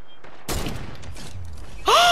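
Gunfire in the Fortnite video game, with a heavy sniper and other weapons: a sharp loud blast followed by trailing rattling shots, and a bright ringing burst near the end.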